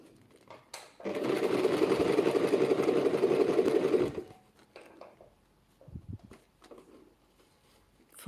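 A sewing machine stitches a rolled hem on a silk chiffon handkerchief in a single rapid, even burst of about three seconds. Quiet handling noises and soft rustling of the fabric follow.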